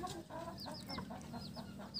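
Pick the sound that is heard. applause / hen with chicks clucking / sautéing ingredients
hen with chicks clucking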